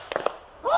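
A few quick, sharp gunshot cracks sound close together at an outdoor bachelor party, followed by a brief rising tone.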